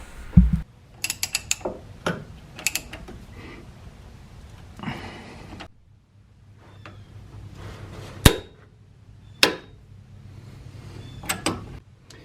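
The wheel of a 1998–2003 Ford F150 is turned during a wheel bearing check, producing scattered mechanical clicks, clunks and ratcheting knocks at irregular intervals against a quiet background, with a few sharper loud bangs. No voices are heard.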